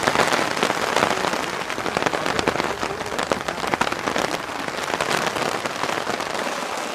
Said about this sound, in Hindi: बारिश को देखते हैं।